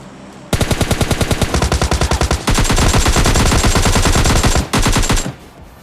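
Rapid automatic gunfire in PUBG Mobile Lite from an M416 Glacier rifle: a loud burst of evenly spaced shots followed by longer sustained fire and a final short burst.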